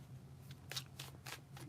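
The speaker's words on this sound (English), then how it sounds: "we're going to get into the bridge shuffle" Tarot cards being bridge shuffled, a few quick riffling bursts of cards close by over a low steady hum, with no talking.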